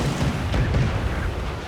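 Ship cannons fire in a naval battle in Assassin's Creed 4 Black Flag, a loud, dense, continuous roar of booming blasts with no clear gaps.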